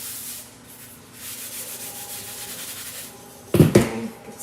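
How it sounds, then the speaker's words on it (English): Chalk paint product is rubbed by hand onto a surface, giving a soft, steady scraping rub close by, with a brief louder scuff near the end. "Just gonna kind of apply it and rub it in."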